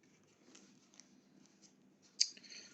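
Scissors cut pictures out of a scrapbooking magazine, with quiet soft snips and paper rustles and one sharper, louder snip near the end. The cutting is close and faint, with no talking.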